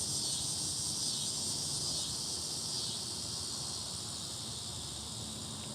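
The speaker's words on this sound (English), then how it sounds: "And man, are these cicadas loud." Loud, steady high-pitched droning of cicadas fills an outdoor evening scene, continuous and unbroken throughout with no other sound standing out.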